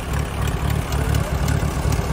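An auction-bought tractor runs after a jump start with a dead battery, its heavy diesel engine idling in a loud, steady low thrum with a regular chugging pulse, no talk over it.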